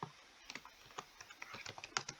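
Quiet typing on a computer keyboard, irregular soft key taps close by, continuing for a couple of seconds.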